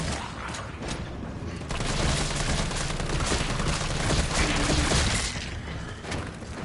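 Dense, continuous gunfire in the survival-horror video game Resident Evil 3 forms a loud, unbroken wall of shots and clatter that swells and holds for several seconds before easing off slightly.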